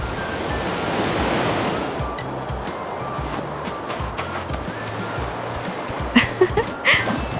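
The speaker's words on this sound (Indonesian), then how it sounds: "Ombak kecil menabrak lembut lambung kapal riset" Small waves lap gently against a research ship's hull at sea, a continuous soft wash of water with a few sharper splashes near the end and no voices.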